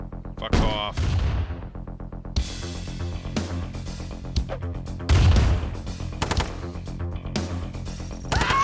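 Real-time strategy battle sounds from Command & Conquer: sharp bursts of gunfire and crashing impacts come in uneven volleys, mixed with short clipped unit voice responses and other game effects.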